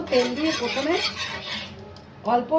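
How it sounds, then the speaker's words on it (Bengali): Oil is brushed over a pan before aloo paratha goes on, heard as a run of metallic scraping and clinking strokes, close and moderately loud, with a louder scrape at the end and no talk. "তেল দিয়ে প্রথমে বুলিয়ে নিলাম"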